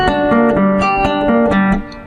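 Guitar picks out the first measure of the Legend of Zelda Fountain theme, a bright, sustained arpeggiated figure of ringing single notes across the strings, loud and close with no talking.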